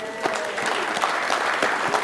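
Conference audience in a general session hall applauding, a dense, steady patter of many hands clapping at moderate distance for a couple of seconds.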